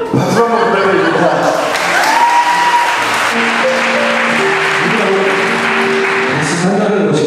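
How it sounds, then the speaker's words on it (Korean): Guests at a wedding applaud throughout, a continuous loud wash of clapping with voices and some sustained tones mixed in alongside it. "박수 한번 부탁드립니다."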